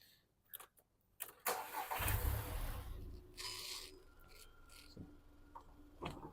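A VW Polo 1.2L engine cranks briefly, catches with a roar, then settles into a steady idle, heard nearby with a few clicks and scrapes around it.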